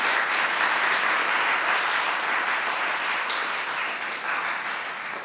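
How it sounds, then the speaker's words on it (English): Sustained applause from a symposium audience, steady and dense clapping that fills the whole stretch, tapering only slightly at the end. "I would like to invite everyone to send applause to all of our panelists."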